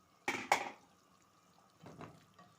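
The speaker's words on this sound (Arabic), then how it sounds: "هنحط الفاصوليا" Canned or cooked beans tipped into a pot of simmering meat stew, giving two quick soft splashing thuds followed by a fainter wet slide a moment later, close by and with no talking.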